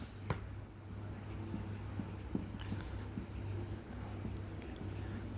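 Pen or pencil scratching on paper as the next step of a math limit solution is written, a quiet close series of short strokes and taps over a low background hum.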